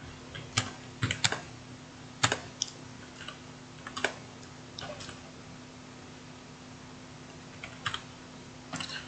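Keys on a computer keyboard typed in short irregular bursts with pauses between, close and fairly quiet over a faint steady hum, no voices.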